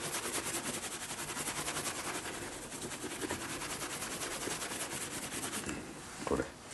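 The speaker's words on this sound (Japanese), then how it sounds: "最後ムートンで磨くんです。" A leather baseball glove is buffed with a sheepskin (mouton) pad, producing a steady, close, rapid rhythmic rubbing swish that continues throughout and eases off near the end.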